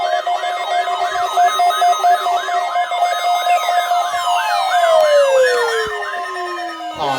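An outdoor public warning siren wails in a fast repeating up-and-down yelp, then shifts into a long falling tone, heard loud and continuous with no talking.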